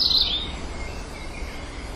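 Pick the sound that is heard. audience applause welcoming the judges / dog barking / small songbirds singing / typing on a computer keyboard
small songbirds singing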